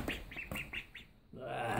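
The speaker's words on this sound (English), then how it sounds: "Oh, ducks." Ducks kept in a box quack in a quick series of five or six short, nasal calls, close to the microphone, followed by a rising rustle of noise.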